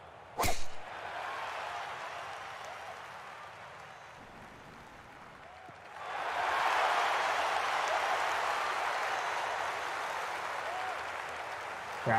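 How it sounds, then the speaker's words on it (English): In the EA Sports PGA Tour video game, a virtual golf gallery bursts into applause after a sharp club strike, fades, then swells again into sustained clapping and cheering. "Crowd noise reaction."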